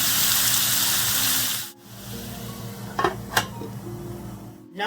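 Jerk chicken sizzling in a pot gives a loud, hissing fry that suddenly cuts off, followed by a couple of close metallic clanks as the pieces are turned, then a softer sizzle resumes, with no talking.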